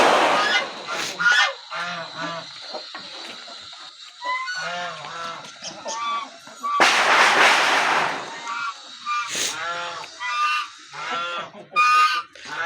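Backyard poultry yard with a seal rooster, hens and heavy puff birds, honking and calling in repeated bursts of varied loudness, some near and loud, with occasional voices between the calls.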